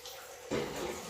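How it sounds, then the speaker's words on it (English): Water from a pump in a hydroponic RDWC system splashes down a waterfall return, starting suddenly and then rushing steadily at moderate volume. "We got the waterfall pumping in all the spots here."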